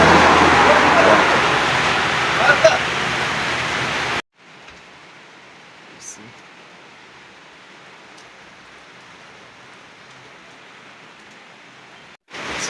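Rain falling outside a small roadside shop in Bujumbura, a steady broadband hiss that is fairly loud at first, then drops abruptly to a much fainter wash of drizzle before swelling again at the end.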